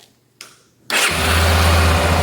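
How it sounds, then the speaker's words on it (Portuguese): A motorcycle engine is started during an alternator check: a couple of brief cranking clicks, then the engine catches and settles into a loud, steady close-up idle. "E vou ligar a moto."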